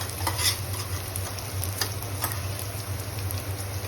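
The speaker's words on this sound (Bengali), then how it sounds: "আলু পেঁয়াজটা আর ভাজা ভাজা হয়ে গেছে।" Potatoes and onions frying with cumin in a pan give a steady close sizzle with a low hum underneath, broken by repeated stirring scrapes, and no one speaks.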